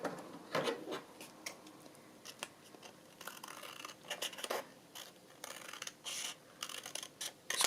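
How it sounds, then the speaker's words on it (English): Scissors make a series of short, crisp snips and rubbing scrapes, close and fairly quiet, as a folded paper book-page pocket is trimmed straight, with irregular pauses between cuts. "so I might just trim it up a little bit."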